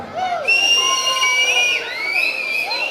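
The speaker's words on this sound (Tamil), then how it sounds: "எல்லாரும் விசில் அடிச்சு காட்டலாமே." Audience at a stage function whistles loudly in long sustained and rising tones, several whistles overlapping, with crowd cheering and shouting underneath, close and continuous throughout.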